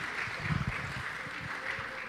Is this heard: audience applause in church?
yes